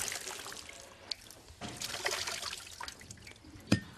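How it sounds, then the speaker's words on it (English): Hand block-printed cloth in the Bagru style is washed in water, with irregular sloshing, trickling and splashing, fairly soft and close, and a sharper splash near the end. "The cloth is then washed, dried and is ready for the harda treatment."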